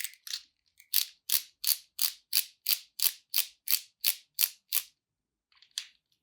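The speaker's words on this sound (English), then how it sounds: "This is done by removing 4 screws." A screwdriver or hex key ratchets a screw out of the top jaws of a MetMo Fractal Vise, a crisp, close series of about a dozen evenly spaced clicking strokes, then a brief pause and a few lighter clicks.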